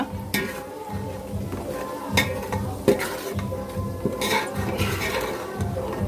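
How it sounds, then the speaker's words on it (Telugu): Ground masala paste for a korameenu fish pickle being stirred in a pan over a low flame, with a soft sizzle under repeated scrapes and light clinks of a spoon against the metal, no talk. "అవి కూడా వేసేసుకొని ఇంక తిప్పేసుకుందాము ఇది మొత్తం లో ఫ్లేమ్లో జరగాలన్నమాట"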